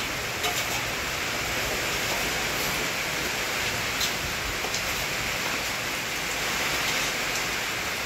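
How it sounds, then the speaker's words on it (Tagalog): Heavy rain pours steadily during a flood that has lasted three days, a dense, even hiss that stays constant from start to finish with no voices. "Malakas ang ulan, Ate Rowena."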